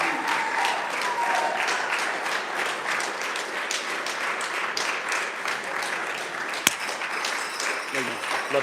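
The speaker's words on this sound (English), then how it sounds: "Can we give Chris Peterson an incredible hand clap?" Steady crowd applause rolls on for Chris Peterson at the South Dallas Driving Academy graduation ceremony, thick and continuous with voices mixed in and one sharp knock partway through.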